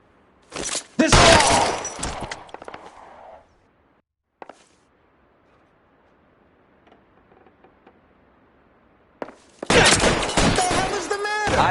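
Gunfire bursts in a shootout in the video game L.A. Noire, with a loud cluster of shots at the start, a quiet stretch with a lone crack in the middle, and another loud volley at the end.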